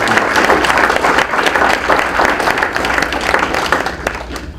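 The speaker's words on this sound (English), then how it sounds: "Give them another round of applause." An audience at a Republican women's club candidate forum breaks into sustained, dense applause, loud and continuous throughout with a crowd's murmur beneath the clapping.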